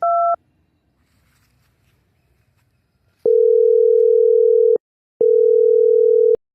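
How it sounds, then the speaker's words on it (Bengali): Telephone tones on a landline: a brief two-pitch beep at the start, a pause, then two long steady dial or ring tones separated by a short gap, loud and clean with no talking. "এবার তুই নাম্বারটা তুল আমি নাম্বারটা আমি তোরে বলতাছি জিরো ওয়ান সেভেন ডায়াল কর ফোন দে"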